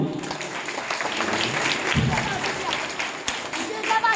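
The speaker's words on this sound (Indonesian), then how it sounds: "Tepuk tangan dong." A crowd applauds at a Sundanese Maulid Nabi religious gathering, with moderate, continuous clapping and crowd noise and some voices mixed in.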